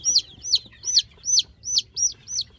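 A young chick held in the hand for a Ranikhet vaccine dose peeps repeatedly, about seven sharp high chirps in a steady rhythm, close and clear over a quiet background.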